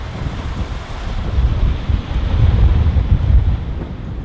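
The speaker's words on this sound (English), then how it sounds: "Wind has been gusting." Strong wind gusts roar across open water on a sailing boat, buffeting the microphone with a low, surging rumble that rises and falls, with no voices.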